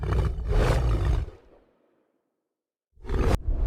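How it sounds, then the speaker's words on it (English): A Bengal tiger on the open grass plains of the Terai lets out a loud, breathy roar that swells and fades, followed after a short silence by a second sharp burst. "The tiger unleashes an earth-shaking roar with raw sonic power."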